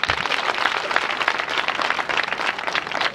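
Applause from a marathon event crowd in Rwamagana for the provincial governor, many hands clapping steadily and fairly close for the whole stretch with no voices over it.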